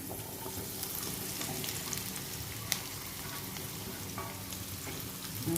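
Chopped, boiled karande yam sizzles with roasted green chillies in a hot pan, a steady close frying hiss with faint stirring scrapes and no talk.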